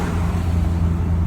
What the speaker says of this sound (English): This exhaust brake working.